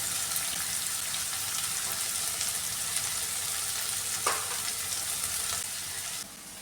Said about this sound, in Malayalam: ഇതെല്ലാം കൂടെ നന്നായിട്ടൊന്ന് ഫ്രൈ ചെയ്തെടുക്കാം